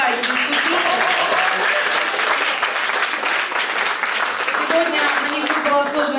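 Audience applause for a jury panel at a fashion contest show, steady crowd clapping throughout that tapers slightly toward the end.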